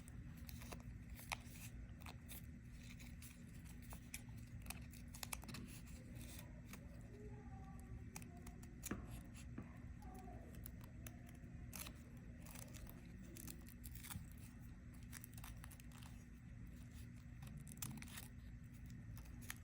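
Scissors cutting a folded paper snowflake: quiet, scattered snips and small crisp clicks over a low steady background hum, with no talk.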